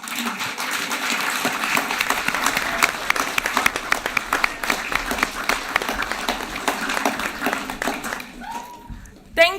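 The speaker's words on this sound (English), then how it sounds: "let's give a round of applause." Audience at a spring university graduation ceremony applauding in a large hall, a sustained dense clatter of many hands with some crowd noise, tailing off near the end as a voice starts.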